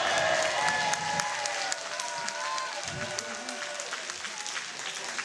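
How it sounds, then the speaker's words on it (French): An audience claps for a speaker at a French media-themed talk, a fairly soft, distant patter of many hands with voices and crowd murmur mixed underneath throughout. "vous applaudissez à chaque fois que je dis un truc"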